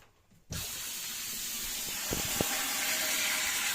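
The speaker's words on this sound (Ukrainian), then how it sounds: "Сейчас открываем воду." Tap water is turned on to refill a leaking toilet cistern after the fill valve has been reseated; silence gives way to a steady, close hissing rush that continues, with two brief knocks partway through.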